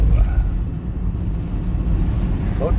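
A low engine rumble of a passing motorboat, steady and moderately loud, with faint wind noise over the microphone.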